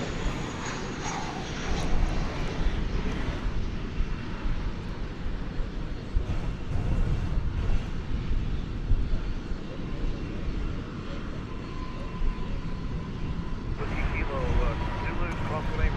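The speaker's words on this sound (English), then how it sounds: "American Airlines jet landing there." American Airlines jet airliner landing at DFW airport in the evening, a long, steady roar of jet engines that swells and ebbs across the stretch, heard from the ground at moderate distance, with faint background talk.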